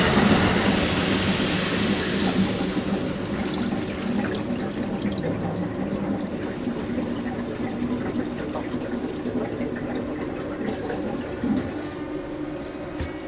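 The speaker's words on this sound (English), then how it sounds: "flip this switch here, and it's going to fill up these 3 water filters." Steady rushing of water filling three water filters in a camper's plumbing system, a continuous close hiss and gurgle that softens slightly partway through, with no talking.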